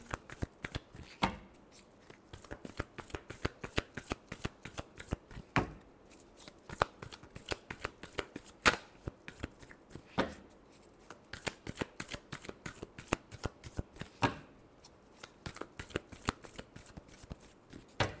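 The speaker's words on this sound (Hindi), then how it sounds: "Last shuffle." A deck of tarot cards is riffled and shuffled by hand, close up, in rapid crisp bursts separated by short pauses, with no voices over it.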